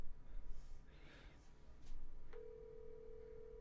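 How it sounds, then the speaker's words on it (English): A phone call from an Apple Watch to Verizon starts ringing with a faint steady tone, arriving after soft breathy noise and quiet room sound. "And it's ringing."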